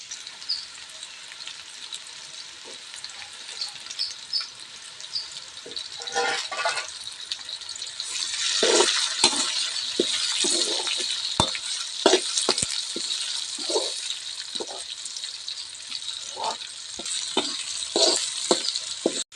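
Chicken with dried red chillies and onions frying in oil in a pan, a steady loud sizzle with frequent scraping stirring strokes throughout.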